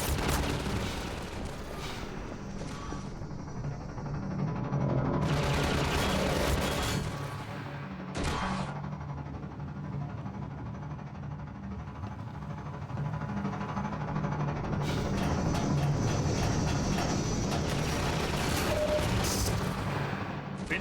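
A combine gunship in Half-Life 2 fires rockets in a sustained, loud barrage of rumbling blasts and rapid bursts that swell and ease over a dense roar.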